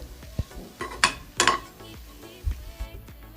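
Capsicum fries in a pan with garam masala, chili powder and salt. A spatula clanks and scrapes sharply against the metal a few times over a faint, soft sizzle.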